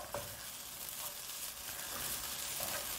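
Dry banana flower masala being roasted in a pan over a medium flame, a faint continuous hiss and crackle with light stirring, quiet and close, no talking.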